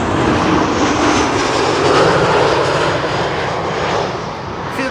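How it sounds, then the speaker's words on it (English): A KLM airliner on arrival at Amsterdam Schiphol from Copenhagen passes close and loud, its broad engine roar swelling and then easing slightly, with no talk over it. "KLM flight 1270, arriving from Copenhagen"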